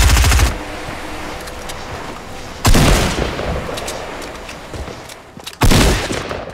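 Submachine-gun fire in Fortnite Battle Royale comes in three loud, close bursts, with a noisy game backdrop in the gaps between them.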